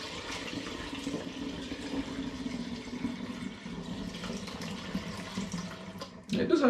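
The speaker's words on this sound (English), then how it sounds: "I'm just pouring it in" Eucalyptus cider poured straight from a bottle into a fermenter, a steady close trickle and splash of liquid running throughout, rising slightly louder at the end.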